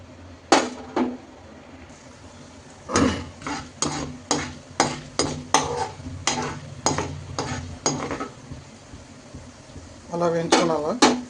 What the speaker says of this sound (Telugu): శనగలు, జీడిపప్పు, పచ్చిమిర్చి, ఎండుమిర్చి, జీలకర్ర, ఆవాలు అన్నీ వేసుకొని వేయించుకోవాలండి